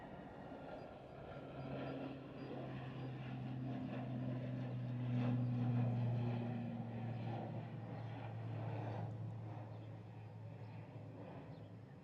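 A Loganair airplane departs from Glasgow airport, its engines a steady distant droning roar that swells slowly and then eases off, with a faint tonal whine running through the low rumble and no talking.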